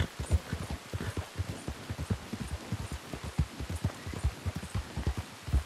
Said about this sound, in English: it's pissing down rain too.